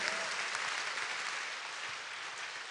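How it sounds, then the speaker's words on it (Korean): A congregation at a Korean church revival service claps in praise to God, a steady, fairly distant wash of applause that keeps going throughout with no talking over it. "우리 하나님께 영광의 박수 돌립시다"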